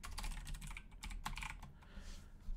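Python code is typed on a computer keyboard in quiet, close, rapid bursts of key clicks with brief pauses between runs.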